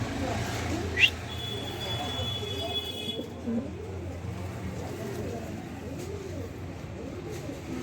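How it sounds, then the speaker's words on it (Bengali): Pigeons cooing inside a coop, a soft continuous low murmur of calls with a brief sharp chirp near the start, heard at moderate distance against faint background noise. "ডিমের উপরে আছে কবুতর"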